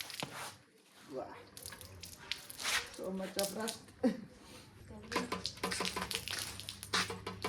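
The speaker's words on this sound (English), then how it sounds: "So the fuel tank is full of water because of rain, so I took this out so I can drain the water now." Rainwater trickles and splashes as it drains out of a rusty Bajaj Pulsar fuel tank, with irregular pouring close by. Someone talks over the water throughout.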